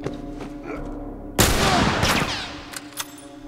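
Rifle gunfire in The Last of Us: a sudden loud blast with a rumbling tail, followed by a few fainter sharp shots, with no talk over it.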